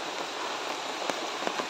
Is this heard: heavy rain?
yes